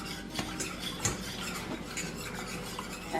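A whisk works through milk gravy in a pan, giving quick metallic clinks and scrapes against the pan over a soft bubbling background, close and fairly quiet.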